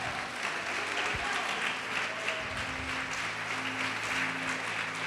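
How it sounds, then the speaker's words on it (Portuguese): Church congregation applauding together in a large room, a steady, even wash of clapping that carries through the whole stretch with no talk over it. "Pode aplaudir e glorificar."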